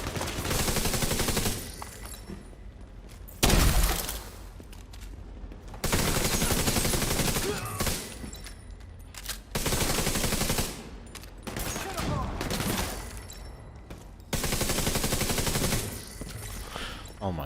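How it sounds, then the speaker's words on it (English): Gunfire from the Capacitor weapon in a first-person shooter video game: several loud sustained bursts of rapid automatic fire separated by short pauses, with game voices and player chatter between the volleys. "This weapon is amazing."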